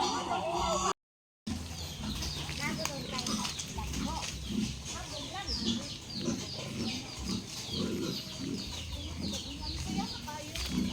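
Pigs grunt and squeal repeatedly on a farm, mingled with clucking chickens, and people talk nearby throughout.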